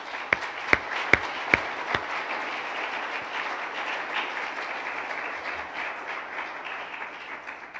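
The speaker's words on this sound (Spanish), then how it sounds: "Dele un aplauso al Señor." Church congregation applauding, a dense wash of clapping that holds steady for several seconds, opened by a few sharp louder claps nearby.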